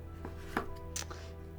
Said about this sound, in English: So you'd want to chop them all fairly the same size, so that helps with the roasting.